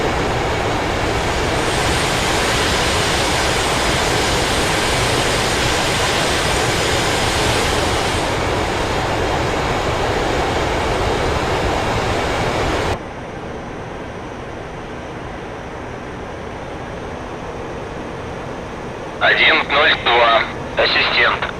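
Su-25T jet taxiing on an airfield in DCS World, with a steady loud engine roar and rumble that drops to a lower, thinner whine partway through, and brief instructional voice bursts near the end.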